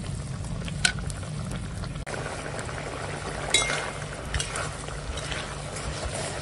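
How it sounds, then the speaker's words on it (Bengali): Fish curry bubbles steadily in a pot as kulekhara greens are dropped in, a continuous close simmering hiss with a few soft splashes and stirring knocks. "এখন দিয়ে দেব এই কুলেখাড়া শাক।"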